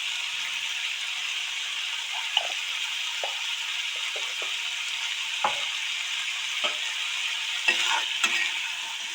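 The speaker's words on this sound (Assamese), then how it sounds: "জিৰা গুড়া এড কৰাৰ পিছত আকৌ মই ধুনীয়াকৈ গোটেইখিনি ভাজি লৈছোঁ" Drumstick curry (sajina) frying and being stirred in a pan after cumin powder is added, with a steady sizzle and intermittent scraping stir strokes, no talk.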